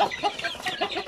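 Farm chickens, a growing flock including breeder stock, cluck in quick, close bursts over about a second with no talking.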